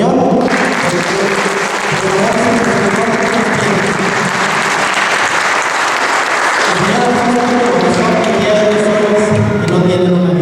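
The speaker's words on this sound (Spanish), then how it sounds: "Así es que vamos a dar un fuerte aplauso al Señor." A church congregation at a worship testimony gives strong, sustained applause, a loud and dense wash of clapping that continues for about ten seconds.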